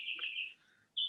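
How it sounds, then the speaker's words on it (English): Birds singing in clear, high chirping calls: one long warbling phrase, a short pause, then a bright second call, fairly soft and with no voices. "Come right back into the room and hear the birds singing."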